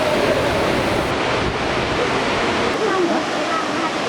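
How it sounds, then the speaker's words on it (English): Dokomali Waterfall in Ainaro, Timor Leste, a constant roaring rush of falling water that fills the whole clip, broad and loud with some wind buffeting on the microphone. "here is Dokomali Waterfall."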